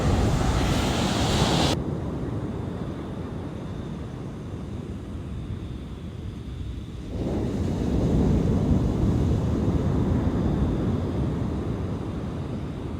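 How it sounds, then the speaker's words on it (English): Ocean surf rolls onto Zenith Beach, Australia, a steady roaring wash of breaking waves heard close up, with gusty wind buffeting the microphone and the surge swelling louder again partway through. "So we're on Zenith Beach, and it's epic, but it's not a swimming beach."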